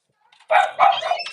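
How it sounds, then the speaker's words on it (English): A Cavalier puppy barks twice in quick succession, close and sharp, followed by a shorter yelp. "She's barking at something."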